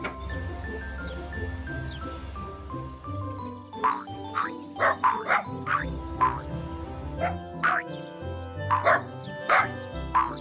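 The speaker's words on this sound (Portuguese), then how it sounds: "Aqui, cachorrinho, trouxe uma coleira para você." A cartoon dog barks and yips in a children's animation, several short high barks over a bed of tonal background music.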